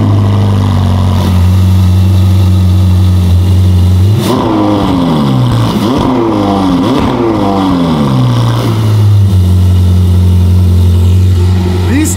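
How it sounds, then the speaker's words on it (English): A Ferrari 488 engine cold start: it fires up from a steady idle, flaring into loud revs that rise and fall several times before settling back to a deep, even idle. "Cold start on the 488."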